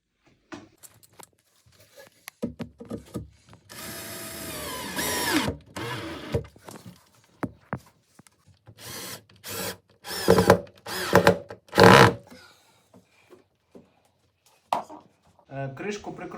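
A power screwdriver unscrews screws while a dresser is being assembled, giving several short, loud whirring bursts separated by pauses, with a longer run near the start and quieter handling sounds in between.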